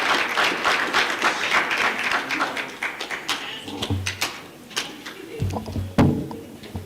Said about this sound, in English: Can we clap hands for Prof?